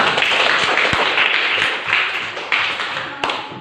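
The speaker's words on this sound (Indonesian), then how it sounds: "Bagus, tepuk tangan kita semuanya." A small group of schoolchildren claps together in class, a brisk burst of applause up close that tapers off, with a few louder taps near the end.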